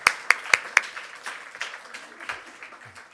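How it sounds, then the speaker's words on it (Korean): Congregation claps at a New Year's Eve church service: a few sharp, distinct claps lead into brief, scattered applause that quickly fades, with faint voices underneath. "여러분 모두에게 또 서로에게 박수로서 감사드릴까요?"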